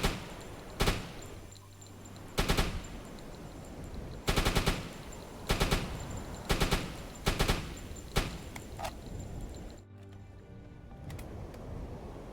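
A submarine's deck machine gun fires on a merchant ship in the game YOUBOAT, several sharp bursts of rapid shots separated by short pauses, loud and close over a low background rumble.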